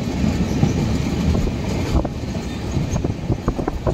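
A train rumbles steadily across a railway bridge spanning a deep forested valley, with loud close wheel clatter and rhythmic clicks that sharpen toward the end.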